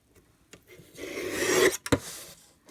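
Scissors or a trimmer rasp briefly through paper while trimming a sliver off the top of a Christmas quilt card, a close scraping sweep followed by a quick sharp snip.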